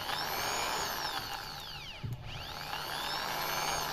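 Nagasaki electric drill running slowly under its speed control, a quiet whirring motor whine that dips briefly midway as the speed is adjusted, then resumes its steady hum.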